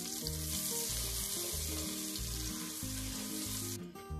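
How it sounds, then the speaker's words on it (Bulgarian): Spices for basmati rice, salt, turmeric, curry powder and black pepper, lightly frying in a pan, a steady close sizzle with a rhythmic low pulsing underneath, cutting off just before the end. "Леко ги запържвам"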